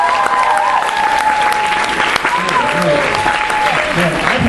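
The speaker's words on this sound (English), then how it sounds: "let's have a nice big round of applause for our contestants" A dating-game audience claps for the contestants, dense and loud applause running steadily throughout, with voices faintly under it.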